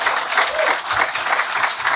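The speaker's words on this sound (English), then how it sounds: "Let's give him a round of applause." Crowd applauding at a hometown ceremony in Savannah honoring Super Bowl champion Nolan Smith Jr., steady dense clapping sustained throughout without pause.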